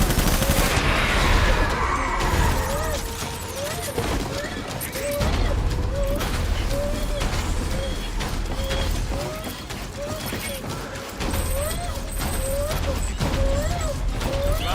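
Gunfire in the Death Stranding video game, with bursts of shots and mechanical clatter over game music and effects, and a voice speaking partway through.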